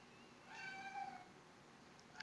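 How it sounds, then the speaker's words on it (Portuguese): A cat meows a few times, faint and muffled as if from another room, over a steady background hiss. "O nosso gato viu que eu já levantei e ele tá miando doido para poder vir aqui no quarto"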